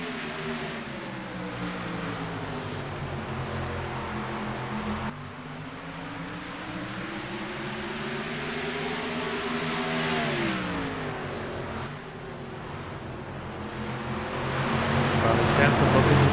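Race car engines circle Martinsville in iRacing, a pack droning and rising in pitch as they accelerate back up to speed, with a commentator talking over the sustained roar.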